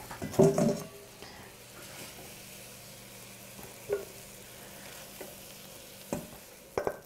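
Shrimps with white wine and garlic fry quietly in a pan, a faint steady sizzle broken by a few sharp clinks and stirring knocks, with no talking.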